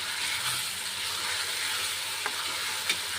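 A paste of green chili, garlic and ginger fries in a hot pan, giving a steady close sizzle with a faint clink or two of stirring near the end, no voices.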